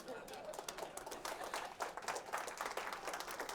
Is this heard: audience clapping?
yes